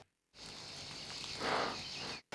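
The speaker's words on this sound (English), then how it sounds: "You can really hear the cicadas here" Cicadas drone in Provence beside a hotel pool in a peaceful setting, a dense, continuous buzzing chorus that swells briefly in the middle, then stops suddenly. It is moderately quiet and has no voices.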